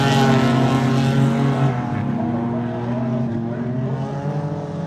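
Several dirt circuit race cars, one with a cammed V6, launch off the start and race together, a loud, dense engine roar with steady harmonic drone that eases slightly after the first seconds as the pack pulls away.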